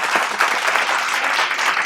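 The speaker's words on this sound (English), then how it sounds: "Give him a round of applause." A theater audience at the Palace Theater applauds, a dense, loud, continuous wash of clapping from many hands that fills the whole moment.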